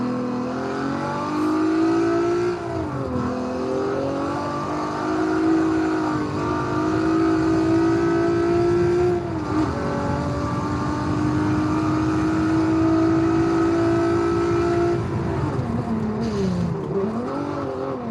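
A race car engine in Forza Motorsport 7 revs loud and close, climbing and dropping in pitch through gear changes and lift-offs, with a sustained high-rev whine that runs the whole lap segment.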